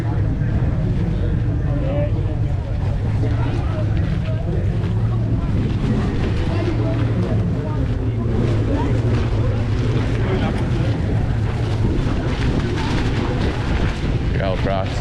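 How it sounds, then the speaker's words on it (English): Strong wind buffets an outdoor microphone at a loud noise gig, a steady roaring rumble throughout with a faint voice beneath. "it's getting windy here"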